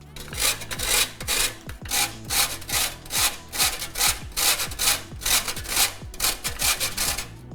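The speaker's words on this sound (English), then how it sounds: "You're gonna need a food grater because these come in tablets. So we're gonna have to grate it" A Mexican chocolate tablet is rubbed against a food grater in quick, even back-and-forth strokes, each producing a close, loud rasp in a steady rhythm with no voices.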